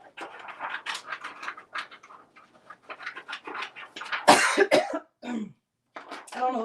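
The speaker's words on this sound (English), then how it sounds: "I don't know what's making me cough." Several short, harsh coughs and throat clearings break up a stretch of quiet talking, loudest in a burst toward the end.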